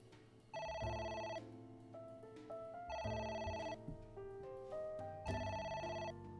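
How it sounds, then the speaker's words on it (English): A telephone rings in the video game AI: The Somnium Files. Three repeated bursts of a bright electronic ringtone sound at regular intervals over soft game music. "It won't stop ringing."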